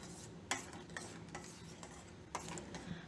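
A spoon stirring ginger tea with sugar in a pan over a low flame, giving a few light clinks and scrapes spread over a few seconds, faint and close above a soft background hiss.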